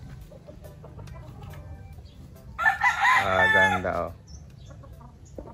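A straight-comb Kelso sweater gamecock crows once, loud and close, over a low background rumble and faint clucking, while someone speaks briefly nearby.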